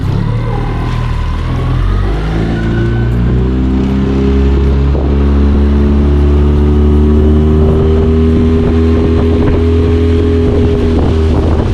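A small outboard motor drives a boat across a creek on a remote backcountry lake, loud and close, its droning pitch rising and settling steadily with wind buffeting the microphone, no talk.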